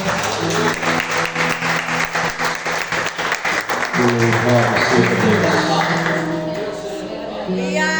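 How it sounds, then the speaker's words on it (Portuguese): A church congregation claps during a praise and worship service, a steady loud patter of many hands with sung or spoken voices and sustained tones running through it, easing off toward the end. "Que as palmas sobre o Senhor"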